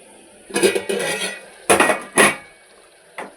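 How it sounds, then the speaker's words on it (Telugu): A metal lid set down on a pan of cooking eggplant and fenugreek curry, giving several close clattering knocks, then a faint final tap. "ఇప్పుడు దీనికి మూత పెట్టి కొద్దిసేపు వేగనిద్దాం"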